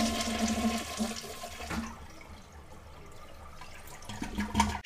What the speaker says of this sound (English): You need to measure both the quick flush as well as the full flush